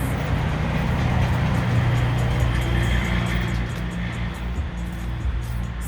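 Semi trucks roll by on a road close at hand, a continuous heavy engine and tire rumble holding steady throughout, with no voices.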